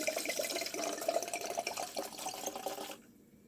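A full bottle of Malbec wine pours steadily into a carafe of sangria with blackberries, a continuous close liquid gurgle and splash for about three seconds, then ends abruptly in near quiet.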